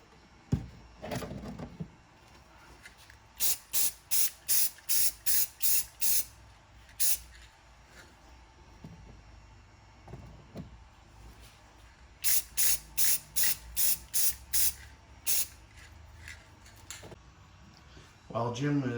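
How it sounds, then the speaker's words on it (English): An aerosol can sprays matte enamel over a painted 3D-printed figure in bursts, a run of eight quick hisses, then a pause and another cluster of short sprays, fairly close, with a voice talking in between. "While Jim is getting his first coat of matte enamel"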